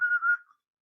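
A person whistles a short, clear, steady note close by, lasting under half a second with a slight waver before it stops into silence.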